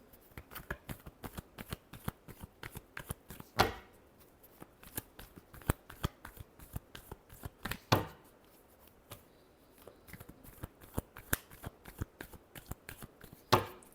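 A deck of tarot cards is shuffled by hand in rapid, crisp riffling bursts, close and quiet, with a few louder bridge or tap sounds spaced through the run.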